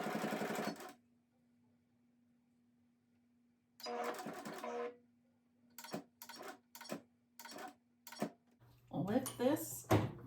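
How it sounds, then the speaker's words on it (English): A sewing machine stitches the corner of a quilted pillow: one long run of stitching, then several short, separated bursts over a faint steady motor hum, with a voice briefly at the start and end. "I'm gonna sew to within a 1/4 inch of the corner, and then I'm gonna burst my stitches a little bit just to reinforce the corner"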